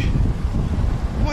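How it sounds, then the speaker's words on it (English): Strong gusts buffet an outdoor microphone with a loud, continuous low rumble and roar, rising and falling in pressure, while a person talks faintly underneath. "Dude, it's so windy!"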